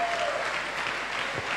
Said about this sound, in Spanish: Vamos, dale palmas, se honra a Cristo